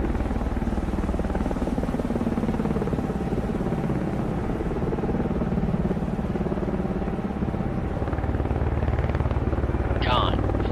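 A helicopter landing on a warship in the Cold Waters naval game, a steady droning rotor and engine hum running throughout with a faint rising whine near the end.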